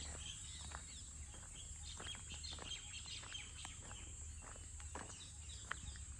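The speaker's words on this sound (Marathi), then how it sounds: "पक्ष्यांचा आवाज पण देखा किती मस्त येते" Scattered sparrow chirps and other bird calls sound through steady outdoor background noise in a Konkan village, with short calls repeating irregularly and fairly faint.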